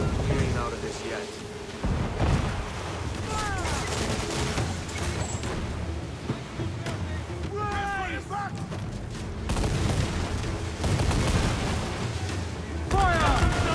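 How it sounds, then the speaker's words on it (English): A ship's mortar fires in Assassin's Creed IV: Black Flag, heavy booming blasts rolling under a dense bed of game noise, with voices and shouts rising over the barrage at several points. "Use the mortar, they say! Well! Captain, look, mortar! Fire!"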